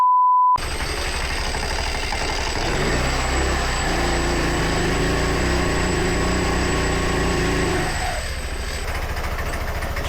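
A motorbike engine starts up and settles into a steady, rough idle with a rattling, uneven clatter, close and loud, with no talking.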